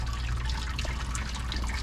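Water trickles and drips steadily over grains as an Irish stout mash with flaked oats is sparged, a continuous soft splashing rinse with no talking.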